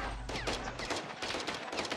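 Rapid bursts of automatic gunfire crackle through a firefight in Call of Duty: Modern Warfare II, a dense run of sharp, close shots over about two seconds with no talk.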